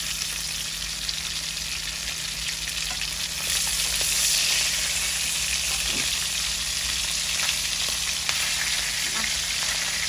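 Hilsa fish frying in hot oil gives a constant close sizzle and spatter, rising slightly midway, with a faint steady hum and occasional small clicks.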